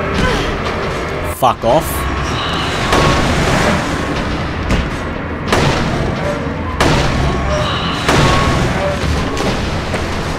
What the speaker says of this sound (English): I'm just gonna take him down with the pistol.